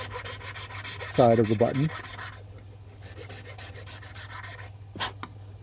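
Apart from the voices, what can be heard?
file rubbing the back of a button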